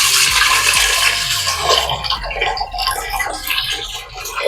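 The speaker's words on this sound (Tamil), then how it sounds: "தண்ணி விட்டுருக்கேன். கடலை முங்கணும்." Water pours from a tap into a steel container holding chickpeas, a continuous splashing gush that rises and then settles into uneven trickling and sloshing as the level climbs.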